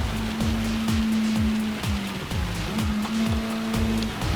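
Steady rain hissing at Le Mans in a racing video game, spread over the constant drone of a race car engine that climbs and drops through repeated gear shifts.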